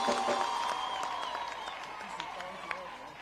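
A crowd at a church gathering in Kisii breaks into applause, a dense wash of clapping that slowly fades while a voice talks over it.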